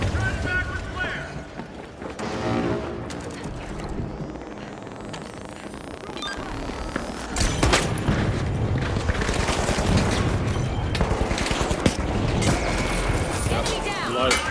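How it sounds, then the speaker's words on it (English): A pyro grenade is thrown and detonates in a video game, heard as a clatter then a burst of booming, crackling fire among ongoing gunfire and game sounds, with a voice speaking over it. "Throwing pyro grenade."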